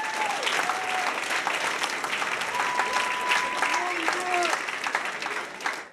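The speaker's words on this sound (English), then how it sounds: "clap it up for Brett" An audience at a party event gives a long round of applause, loud and continuous, with cheers and voices mixed into the clapping.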